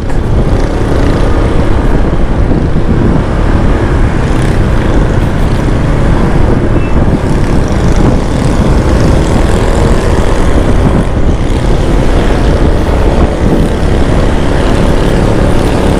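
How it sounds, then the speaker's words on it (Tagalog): A loud motorcycle exhaust roars steadily close by, a continuous rough engine drone with no letup and no voices. "Maingay yung tambutso ng motor ni kuya,"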